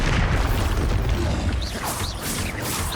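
Loud, booming spell blasts from the Expulso curse in Hogwarts Legacy, dense low rumbling impacts with crashing debris running continuously through the clip, no clear talk.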